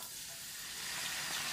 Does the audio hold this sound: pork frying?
yes